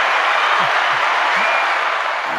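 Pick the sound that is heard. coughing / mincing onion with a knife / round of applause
round of applause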